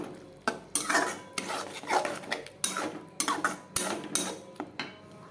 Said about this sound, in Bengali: আবার একটু মশলাটাকে কষাবো।